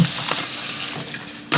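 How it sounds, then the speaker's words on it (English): Hands being washed under a running tap while grilling ribs, a short close burst of splashing water with no talk. "let me wash my hands"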